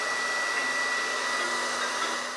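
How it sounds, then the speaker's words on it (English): A hairdryer blows hot air onto a smart thermometer, a steady, loud whirring hum with a high whine that runs unbroken throughout. "let's turn on the hairdryer then and heat this thing up"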